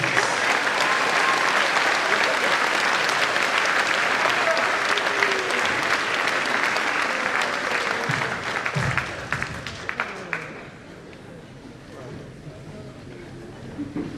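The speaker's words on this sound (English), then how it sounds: "Let's give them a round of applause." A crowd at an eighth grade promotion ceremony gives loud, sustained applause with some cheering mixed in, then thins out toward the end into a few lingering claps.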